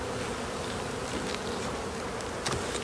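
A dense, steady buzzing of many honeybees fills the air during a spring hive inspection, a continuous close hum with occasional individual insects droning past.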